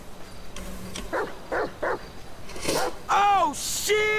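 A dog in the video game GTA 5 barks and yips in several quick bursts amid game noise, with voices talking over parts of it.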